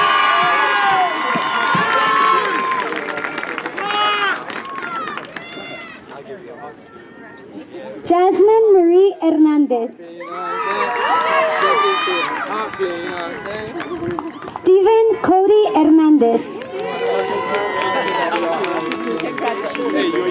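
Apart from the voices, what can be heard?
graduation crowd cheering for a graduate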